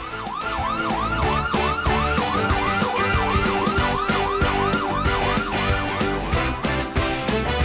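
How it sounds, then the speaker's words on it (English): An ambulance siren passes in a Christmas parade, its loud, steady wail rising and falling in a quick, regular cycle for the whole stretch without a break. "Listen to the sirens."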